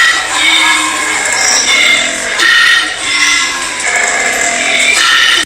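Koala bellowing, a harsh, rasping, snoring-grunting roar in repeated loud bursts with brief pauses between them.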